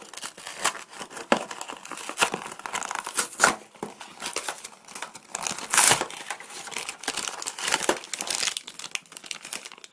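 Plastic and cardboard packaging for a Tornado Pegasus spinning-top toy crinkles and crackles as it is opened, with dense irregular rustling and a few sharp snaps close up and no talk.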